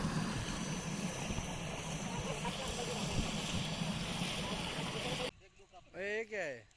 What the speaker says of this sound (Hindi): ये हमारे पानी को उबाल आ चुका है।